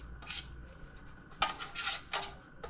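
Butter is spread around metal baking pans for Barbados cassava pone, giving soft scraping and rubbing strokes with light clinks of metal, close and fairly quiet, with no talking.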